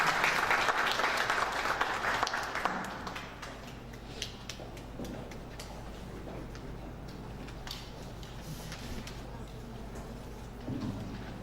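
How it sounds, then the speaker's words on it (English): Audience applause at a reading competition opening ceremony, a loud burst of clapping at first that thins to scattered, lighter claps while faint voices murmur in the hall. "Please give a round of applause as she comes to the podium."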